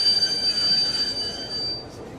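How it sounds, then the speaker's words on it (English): Cartoon train wheels squealing as the train brakes to a stop, a sustained high metallic screech over rumbling rail noise, loud and continuous with no speech. "Hey, why did they stop the train?"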